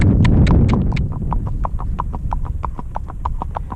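Hooves of a gaited horse beat out a steady, even clip-clop rhythm, close and loud, with no voices over them.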